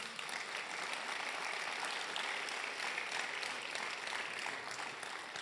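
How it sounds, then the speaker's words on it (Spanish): Steady applause from a church congregation at a family worship meeting, dense and sustained throughout at an even level with no voices above it. "Le damos un aplauso al Señor."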